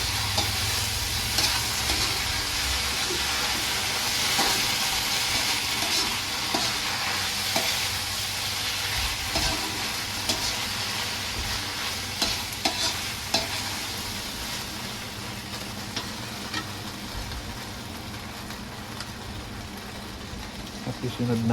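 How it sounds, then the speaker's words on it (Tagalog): Tofu sisig sizzling and frying in a pan while being stirred, a steady close sizzle with scraping stirs throughout, a voice speaking over it. "Haluin, halu-haluin."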